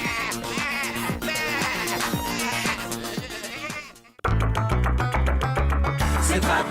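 Cartoon sheep on a farm in Tracteur Tom bleat repeatedly over bouncy music, their calls overlapping rhythmically; after a brief pause the music returns louder with more bleats.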